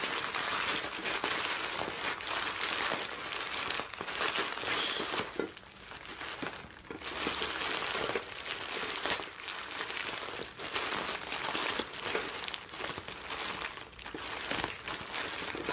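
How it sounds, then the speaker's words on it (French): Continuous dense crinkling and crackling of large bubble wrap being handled close up, steady with brief dips, no voices. "Ouais, c'est du gros papier bulle."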